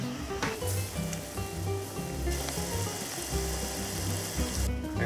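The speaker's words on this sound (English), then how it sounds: "that's been simmering away for a good while now" Strawberries and golden syrup simmer in a pan on low heat, a close, steady bubbling sizzle with small pops and a brief clink, no voices.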